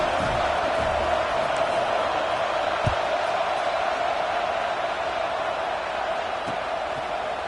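A stadium crowd in the College Football 26 video game roars as a steady, dense wash of noise, distant and continuous throughout with a couple of faint thumps, no clear cheering peaks.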